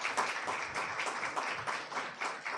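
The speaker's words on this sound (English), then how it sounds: "So I'd like you to give a big applause to the opening panel." An audience at a reproductive justice litigation conference applauds the opening panel, with steady, fairly loud clapping from many hands sustained throughout with a lively, uneven rhythm.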